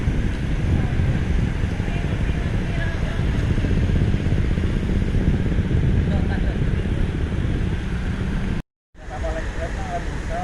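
Strong wind at Bakauheni seaport on an overcast morning, a loud steady roar buffeting the microphone for the whole stretch, with only a brief break near the end.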